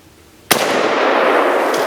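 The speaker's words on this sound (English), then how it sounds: "I'm going to see if I can shoot through the 2-liter." A single sharp AK rifle shot cracks out on an outdoor range aimed at a 2-liter bottle by a target, followed by a loud, sustained broadband roar that trails on after the blast.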